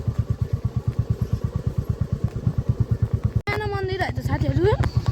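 A motorcycle rides along a rough, bumpy road near Dhulikhel, its engine thumping in a steady, close pulse that grows rougher near the end as a voice talks over it.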